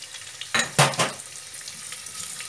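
Onion frying in oil for a Hyderabadi sorrel leaf and mutton curry, with a burst of sizzling as it meets the pan, a few scraping stirs, then a softer ongoing crackle nearby.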